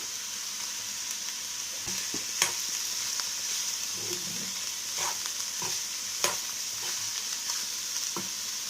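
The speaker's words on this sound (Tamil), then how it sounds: "வெங்காயம் வதங்குறதுக்கு உப்பு சேர்த்துக்கலாம்" Onions sautéing with salt in a pan for a street-food murtaba, a constant bright sizzle with repeated scraping stirs and clanks of a spatula scattered throughout, close and without any voices.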